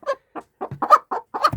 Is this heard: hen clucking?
yes